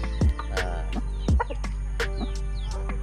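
A large six-month-old young rooster clucks and calls close by, a few sharp loud notes over quieter scattered clucks and chatter from the birds.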